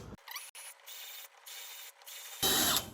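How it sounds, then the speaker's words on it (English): A reamer rasps briefly inside a hole on a VQ/Nexa 107 PC-6 model aircraft build to fit a blind nut. Short, close scraping bursts are separated by tiny pauses, ending in a louder grind. "let's ream it out a little"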